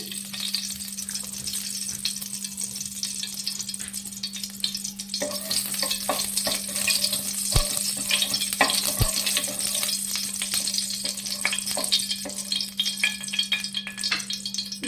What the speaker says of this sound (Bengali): কড়াই গরম হয়ে গেছে, এবার আমি ঘিটা দিয়ে দিচ্ছি।